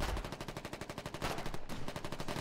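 Gunfire in the video game Foxhole, as a sniper hits a player during a battle by a road and rocks: a loud, rapid train of shots with a brief gap, then more.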